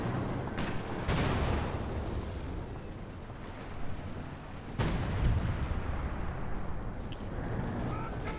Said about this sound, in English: So some base howitzer artillery.